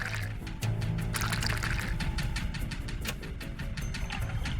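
Water is poured into a nitric acid mixture, giving a close, continuous splashing pour with a steady trickling texture that lasts throughout, with no talking.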